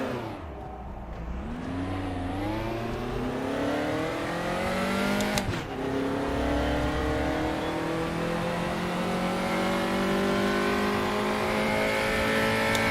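A race car in the RaceRoom racing game revs hard and drops through the gears too quickly, its engine pitch sweeping up and down in repeated whining arcs. One sharp crack comes midway, with no talking.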